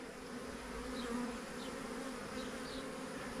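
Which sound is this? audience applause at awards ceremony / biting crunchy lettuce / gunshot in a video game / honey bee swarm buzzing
honey bee swarm buzzing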